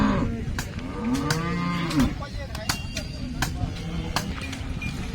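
A cow lets out a long, low moo up close, followed by scattered clatter and shuffling of a busy cattle market at Sangola in the background.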